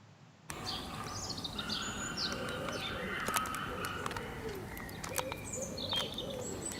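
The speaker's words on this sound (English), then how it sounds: "That was obviously birds you were hearing there." Birds call outdoors, mixing soft pigeon-like coos with scattered chirps and tweets at a moderate distance over faint background noise.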